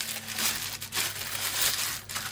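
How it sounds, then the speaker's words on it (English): Plastic bag packaging around a 240mm AIO liquid cooler crinkles in short handled bursts during an unboxing, close and moderately loud with no talk. "Nice, actually, nice plastic bag here."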